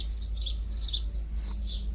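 Pigeons calling, the birds kept as pets at home, with steady chirping and cooing at a moderate distance over a constant low background hum, and no voices.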